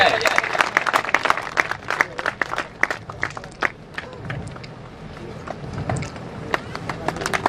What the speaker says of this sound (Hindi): जोरदार तालियों से स्वागत करें भाई, जोरदार तालियां बजाए।